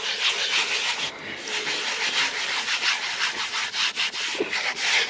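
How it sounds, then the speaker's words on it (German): Chrome trim strip on an Opel Omega from the 1980s–90s being wet-sanded by hand with water, giving a close, continuous gritty scrubbing with quick repeated strokes and no talking. "dann nehmen wir ein bisschen Wasser und dann schleifen wir das einfach schön damit an"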